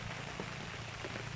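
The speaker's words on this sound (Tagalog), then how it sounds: "Umuulan ngayon, ang lakas ng ulan dito" Heavy rain falls in a steady, dense wash of drops, fairly quiet and continuous, with no talking.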